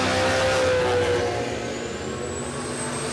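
A drag racing car roars past at Warwick Dragway, a loud engine note that fades as it pulls away, with a rising whine trailing behind.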